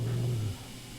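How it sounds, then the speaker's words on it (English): A dog's low, rumbling growl in the horror video game Death Mark, a steady close growl that holds for about half a second and then cuts off into quiet. "Oh no. The dog's coming back."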